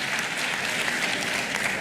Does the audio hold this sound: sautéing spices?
no